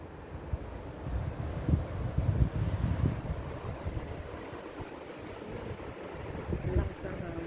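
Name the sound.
strong wind at Hong Kong hilltop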